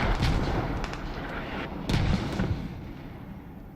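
Mortar fire in a competitive tactical shooter match: a series of deep booming blasts and distant thuds, with the strongest impact midway, over a steady rumbling battlefield background.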